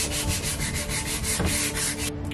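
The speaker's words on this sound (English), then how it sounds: "I'm going to use some 80 grit sandpaper to get that out" Coarse 80-grit sandpaper rubbing over a teak step on a sailboat, a steady run of rapid back-and-forth scratching strokes, close and loud, stopping abruptly near the end.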